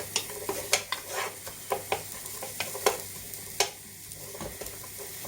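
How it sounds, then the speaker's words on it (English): Chopped onions sizzle and crackle as they soften in a large soup pan on the hob, with frequent sharp stirring scrapes and taps over a steady frying hiss, close and fairly quiet. "So now pop the onions in. I'm going to soften them for just a couple of minutes."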